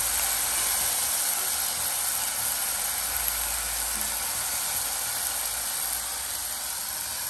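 Shrimp curry ingredients sauté in a clay pot, giving a steady, even sizzle and hiss that runs unbroken and fairly quiet throughout.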